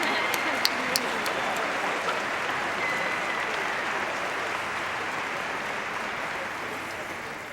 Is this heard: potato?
no